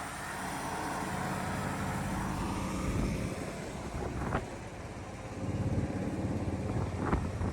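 A 1969 Dodge Dart Swinger 340 V8 idling quietly through overly soft mufflers, a low steady rumble heard from a short distance with faint wind noise and a couple of brief sharper clicks.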